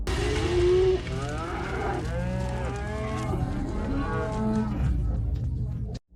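Cattle in a field lowing together, long overlapping moos rising and falling from several animals at once, loud and continuous for about six seconds with no talking, picked up by an outdoor trail camera.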